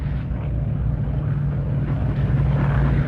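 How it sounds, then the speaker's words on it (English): Heavy Stirling transport aircraft fly low overhead to drop supplies, a loud, steady, deep engine drone that holds throughout. "we heard the engines of heavy aircraft"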